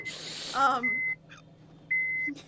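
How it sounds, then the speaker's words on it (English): Two steady electronic beeps sound inside a car, each lasting about a third of a second, close and clear against a quiet background, with a brief voice-like sound just before the first. "Something started beeping in Michelle's car, and it's unclear what it is."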